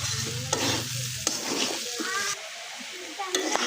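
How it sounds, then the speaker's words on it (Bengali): Beef with potatoes and poppy seeds frying in oil in a pan, a steady loud sizzle with sharp scraping stirs of a spatula at intervals, heard alone without talk. "এই তো ভাজা হয়নি, আরও ভাজতে হবে।"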